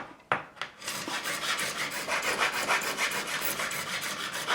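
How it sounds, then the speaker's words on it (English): A file scrapes burrs off an Edwards ESP Japan E-EX-125D Explorer guitar during a complete refinish, with a couple of sharp knocks followed by steady, close, rhythmic rasping strokes. "just removing any burrs"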